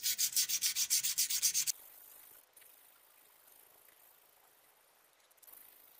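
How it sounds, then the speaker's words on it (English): Strip of 400 grit sandpaper rubbed over a metal piece being prepared for engraving, a quick run of about a dozen even, rhythmic scrubbing strokes up close, then near silence. "I'm gonna sand it off. Take a piece, strip of sandpaper,"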